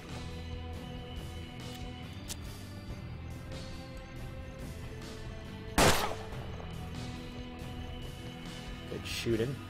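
Gunfire in the game Hard West, a single loud, sharp shot about two-thirds through, heard over a quiet steady background of game music and ambience.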